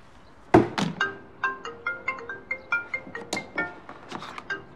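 After a sharp thunk, a mobile phone rings nearby in a home scene from a TV drama, playing a bright melodic ringtone in quick, evenly spaced notes.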